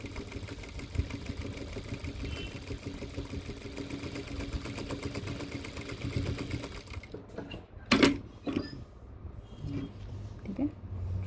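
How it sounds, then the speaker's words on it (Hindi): Sewing machine stitching a second line over a single-thread seam on cargo pants runs steadily and close for about seven seconds, then stops, leaving a few handling clicks and thumps. "इसी के ऊपर एक बार फिर से इसी के ऊपर सिलाई लगा देते हैं"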